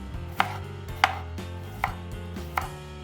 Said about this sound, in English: And chop some herbs.